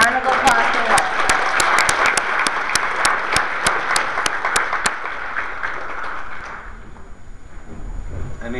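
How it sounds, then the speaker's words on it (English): Audience applause at a Penguicon convention closing ceremony, dense clapping with sharp individual claps that fades out after several seconds, leaving quiet room noise. "everyone give a round of applause for Wolf"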